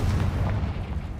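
A Confringo fire spell explodes in Hogwarts Legacy, a short, dense, rumbling blast that fills the clip with no talk over it.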